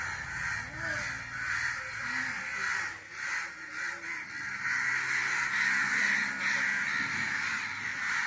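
A flock of crows caws continuously, many harsh calls overlapping at close range, with a person's voice mixed in underneath.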